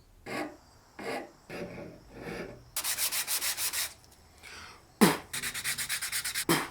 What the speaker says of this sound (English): now we'll sand, file, and scrape the old coating off of this here handle